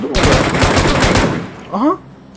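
Automatic gunfire from a machine gun in the battle royale game PUBG, a loud rapid burst of many shots lasting over a second, followed by a short lower tail.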